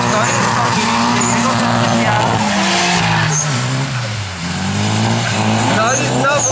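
Drift cars skidding at a DriftCup competition on the Lublin track, with loud revving engines rising and falling under continuous tire squeal close by, as a commentator talks over the action.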